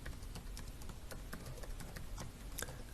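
Quiet, irregular keystrokes clatter on a computer keyboard as commands are typed, soft clicks arriving in uneven bursts with no talking.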